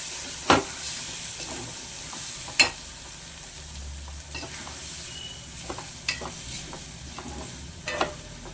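Beans curry with chilli powder is stirred in a pan over a low sizzle, with a few sharp spoon clacks against the pan spaced a second or two apart.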